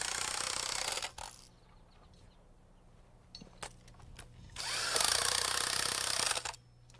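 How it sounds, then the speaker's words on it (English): An impact wrench tightens nuts onto bolts holding floor-framing mud sills, two loud, close bursts of buzzing hammering separated by a quiet gap with faint clicks. "I like to tighten them down with an impact wrench"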